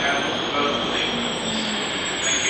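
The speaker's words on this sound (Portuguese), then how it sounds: "esperando parar o metrô" A subway train rumbles steadily as it slows into a station, with loud broadband roar and faint high wheel squeal throughout.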